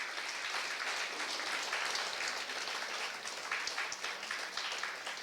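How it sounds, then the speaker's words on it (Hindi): Audience applause welcoming guests at a Hindi welcome ceremony, a steady dense wash of many hands clapping throughout, fairly distant and even, with no voices. "आज सभी जोरदार पहले तो तालियों के द्वारा स्वागत करेंगे"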